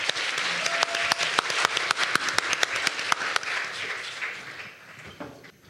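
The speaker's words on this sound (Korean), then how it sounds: "첫 번째 발표자 조효재 선생님 큰 박수로 환영해 주시면 고맙겠습니다." An audience at an international education symposium in Jeju claps to welcome the first presenter, a steady burst of applause with sharp individual claps that gradually thins out.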